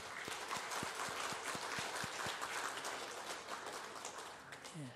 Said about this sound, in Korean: 우리 환영의 박수로.